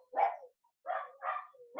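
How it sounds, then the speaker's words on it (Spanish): Dogs bark in a short burst: one loud bark, a pause, then two close barks and the start of another, fairly near and with no talking over them. "Mis perros se pusieron loquitos."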